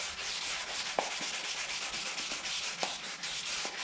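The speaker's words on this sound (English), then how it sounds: "time to just hand sand the rest of these gaps" Hand sanding fills gaps in plastic on a Mitsubishi Evo 7 gearbox, a steady hissing rasp of sandpaper rubbing in quick repeated strokes, close and fairly quiet, with a couple of light taps.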